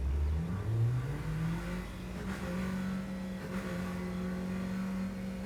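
A modded-sounding car engine in the video game Neverness to Everness revs up and holds a rising, then steady drone, loud and close with no talking.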